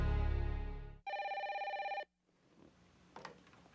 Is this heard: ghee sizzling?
no